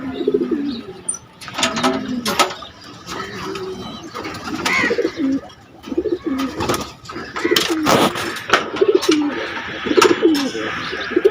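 Pigeons from a racing loft coo again and again at close range, throaty and rhythmic, with sharp chirps and a few bursts of clatter.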